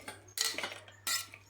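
A spoon stirs curry with curry leaves and mint in a pot, giving two short bursts of scraping and clinking against the metal, fairly close, with quiet gaps and no talk.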